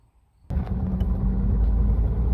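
A 1937 Plymouth sets off on a drive: after a moment of near quiet, a sudden onset gives way to a steady low engine and road rumble, close and constant, with light rattles.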